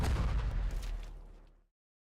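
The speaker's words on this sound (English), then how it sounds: "There's a loud explosion." A loud explosion in the game Goddess of Victory: NIKKE, a deep booming blast that rumbles and crackles, then decays over about a second and a half before cutting to silence.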